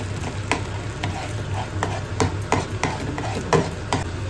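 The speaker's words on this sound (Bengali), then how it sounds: "এবার হালকা হাতে একটু নাড়িয়ে চাড়িয়ে নেব" A spatula scrapes and taps rhythmically against a frying pan while sauce with onion and garlic sizzles steadily underneath, the clacks falling about every half second close by.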